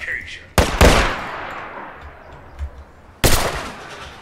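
Gunfire in the video game Fallout 4: two loud, sharp gunshot bursts, one near the start and another about three seconds later, each with a decaying echo.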